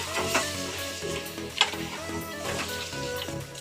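Onion and minced meat fry in a pan for keema, a soft continuous sizzle with a few stirring clicks under steady background music.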